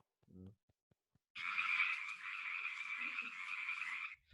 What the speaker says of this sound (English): those are the frogs cheering for you